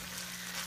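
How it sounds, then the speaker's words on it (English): Peas sauté in a pan with a faint, steady sizzle that crackles softly over a low background hum. "I'm sure you guys can hear these peas sauteing."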